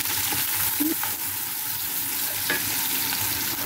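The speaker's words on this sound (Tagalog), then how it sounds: "inilagay na nga rin natin ang ating bawang at luya sa ating kasirola" Garlic, ginger and onion sauté in a pot, a steady close sizzle and fry with a few scraping stirs throughout.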